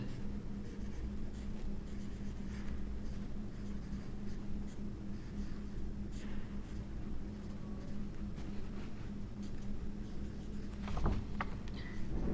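A pen writes on paper during a ninth-grade maths assignment, giving a faint, close, continuous scratching with light taps and strokes over a quiet room hum.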